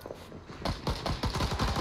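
Rapid automatic gunfire in a Vietnam War video game rattles in a fast stuttering burst, loud and close, with faint voices in the background.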